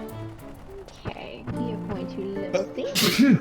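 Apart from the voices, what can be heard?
sneeze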